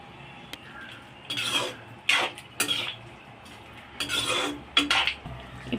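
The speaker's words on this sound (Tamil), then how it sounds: "இப்போ வடிகட்டி எடுத்து வச்சுருக்க வெள்ளைப்பாகை சேர்த்துக்கிறோம்." Jaggery syrup is poured into cooked raw mango in a pan for mango pachadi, with clinks and scrapes of a spoon against cookware in several close bursts.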